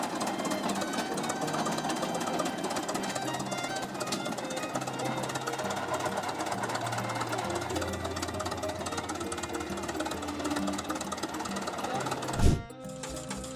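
A steady, rapid mechanical knocking of an old engine running at low speed, about 600 RPM, loud and continuous, with a brief thump near the end.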